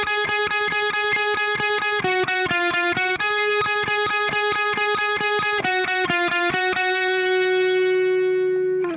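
An electric guitar with effects plays a repeating riff in straight eighth notes, starting high on the third string and stepping down and back up, with even, bright, sustained notes and a final note left to ring.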